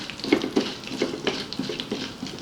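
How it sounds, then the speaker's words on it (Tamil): Fennel, fenugreek, cardamom, cinnamon and cloves are stirred in hot oil for a shrimp gravy, with a soft sizzle beneath a regular series of spatula scrapes and light metal taps against the pan. "பொரிச்ச எண்ணெய்க்கே நான் இதெல்லாம் போட்டு தாளிக்க போகிறேன்"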